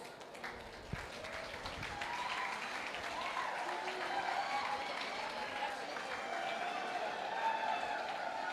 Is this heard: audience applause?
yes